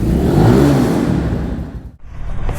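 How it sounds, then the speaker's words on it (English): A cheap Walmart sport motorcycle idling after starting: a loud, steady, close engine drone with a slight rise in pitch early on, a brief dip, then running again. "It doesn't sound as bad as the other bikes."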